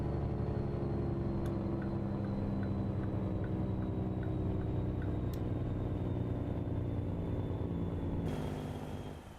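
Truck engine in a truck simulator game, a steady loud low drone with layered harmonic hum and faint regular ticking, two brief sharp clicks, and a slight change in tone near the end.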